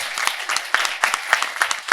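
A panel audience at a discussion on the right to direct one's own care claps together, a dense, steady round of applause with sharp individual claps standing out in a fairly even rhythm.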